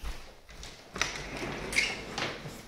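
Folding accordion closet doors in a home are handled, giving soft sliding rattles and a couple of muffled thumps, faint and close with no talking.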